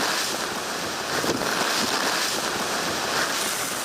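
Typhoon gale at a seafront in Hong Kong under a number eight signal, with whitecapped waves crashing one after another: a loud, steady roar of wind and surf buffeting the microphone throughout, with no voices.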